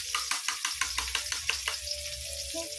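Egg cooking with tomatoes in a pan, soft sizzle broken by a quick run of spatula scrapes and taps that fade into a quieter hiss, faint overall.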